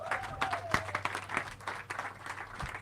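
Applause from an audience at a leadership summit honoring contributors to a women-in-research manifesto, uneven clapping with a few sharp near claps over a low hum, fairly modest in volume.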